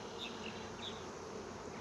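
A dense swarm of honey bees hums steadily and close, a continuous loud buzzing drone with no pauses and no voices.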